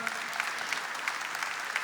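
Church audience applauding during a Catholic talk on devotion to Saint Joseph, a steady dense patter of clapping throughout, moderately distant and with no voices heard.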